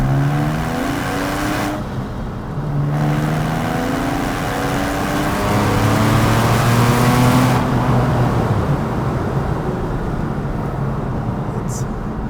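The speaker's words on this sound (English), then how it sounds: "hear that indirect fuel injected engine at the back sounding, shifting down" A Porsche 911 997.1 Carrera S rear engine revs hard and climbs through the gears, then drops pitch as it shifts down, loud and close throughout.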